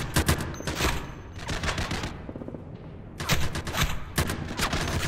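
Rapid gunfire in the sci-fi shooter E.T. Armies, dense bursts of close shots with a brief lull in the middle before firing resumes, with no talking.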